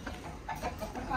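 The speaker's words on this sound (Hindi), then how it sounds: "सारी मुर्गी इधर इकट्ठी होके आ गई है।" Several village chickens gathered near a coop cluck softly and continuously at close range, with a person talking over them.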